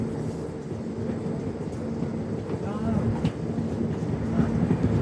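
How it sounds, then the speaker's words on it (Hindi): Poorabiya Express passenger train pulling away, a steady low rumble and rolling clatter that builds slightly as it gets moving, with voices in the background. "बहुत ज़्यादा देर तक रोका नहीं, खुल गई हमारी ट्रेन।"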